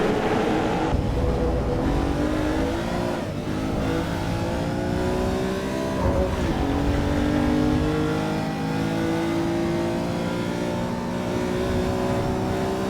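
A Lamborghini Countach engine in the Assetto Corsa EVO racing game revs and drives continuously, loud and close, with rising and falling pitch as it accelerates and shifts through gears, no talk.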